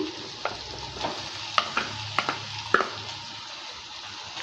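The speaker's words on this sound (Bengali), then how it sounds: "গুড়টা দেওয়ার পর ভালো করে নেড়ে চেড়ে নিচ্ছে" Jaggery being stirred into hog plum pickle in a pan, a steady soft scraping and bubbling sizzle with several sharp spoon clinks against the metal.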